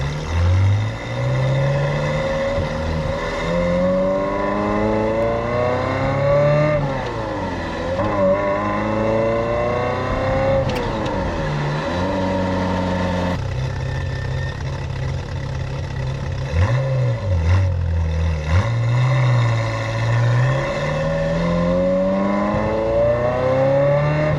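Loud in-car engine note of a Ferrari F355 Challenge car on a road test, revving up through repeated rising sweeps with abrupt drops at gear changes and brief lifts off the throttle.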